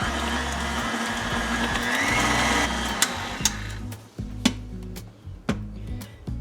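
An electric mixer churns cake batter after an egg has been added, whirring steadily at first, then cutting in and out in bursts with sharp clicks and knocks as the beaters touch the bowl.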